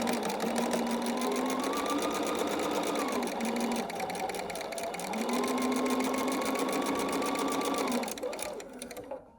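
Home sewing machine stitching quilt fabric pieces up close, a loud steady buzzing run that dips briefly mid-seam and resumes before stopping, with a short clatter at the end.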